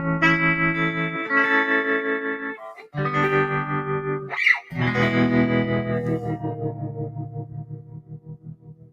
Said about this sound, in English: Now let's throw on the amps reverb.